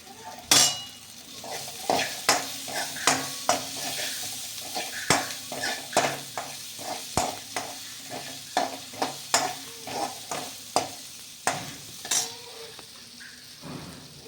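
Chopped garlic fries in a pan for a matki bhaji, with a spatula scraping and clinking against the metal in a steady rhythm over a continuous sizzle, up close.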